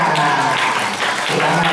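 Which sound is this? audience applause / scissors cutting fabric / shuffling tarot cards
audience applause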